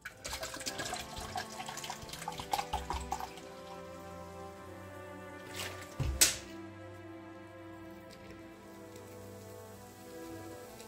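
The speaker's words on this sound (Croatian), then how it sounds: "Za početak 300 ml vode." Water poured into a mixing bowl of sugar, salt and oil for dough, a splashing, rain-like patter for a few seconds, then quieter trickling with a sharp knock midway.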